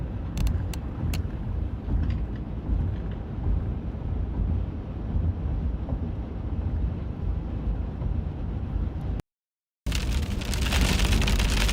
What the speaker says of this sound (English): At least heavy rain. Maybe some small hail starting to come down here.